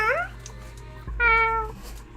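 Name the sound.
person imitating a cat's meow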